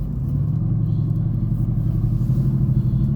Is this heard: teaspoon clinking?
no